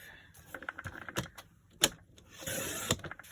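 Card stock is sliced down on a bladed paper trimmer, with a few sharp clicks and taps followed by a rougher, sustained scraping pass of the blade near the end, close and fairly quiet.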